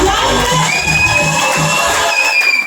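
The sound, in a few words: audience applauding and cheering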